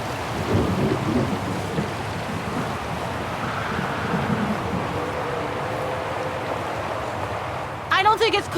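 Steady rain and rumbling thunder fill a stormy scene in the video game Syberia The World Before, a dense wash of downpour and low wind throughout, ending with a brief burst of sharper sound.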